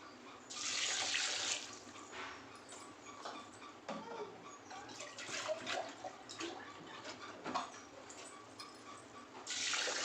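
Water pours into a pot of soaked basmati rice for chicken pulao, a close, steady splashing rush that swells and eases in bursts, with faint kitchen clinks and no talking.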